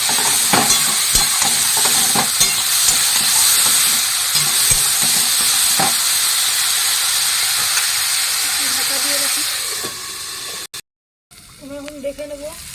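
Tengra fish coated in turmeric and salt frying in a pan, a loud continuous hiss and sizzle with scraping stirs, fading near the end before a brief cut and quieter kitchen sounds.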